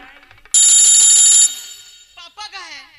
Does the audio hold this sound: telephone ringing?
yes